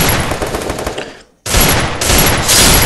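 Loud, rapid automatic gunfire blasts in a dense stream, cuts out briefly, then resumes just as intense.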